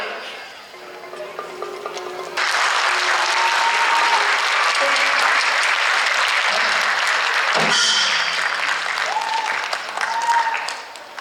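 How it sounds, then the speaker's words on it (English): Audience applause at a Mon National Day celebration in the USA: dense, loud, sustained clapping from a large crowd that swells after a quieter start and holds steady to the end. "please give a big round of applause to them because they deserve it"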